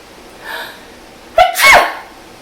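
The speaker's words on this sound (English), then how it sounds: "I'm gonna sneeze now." A single sharp sneeze, close and loud, preceded by a soft inhale, then quiet.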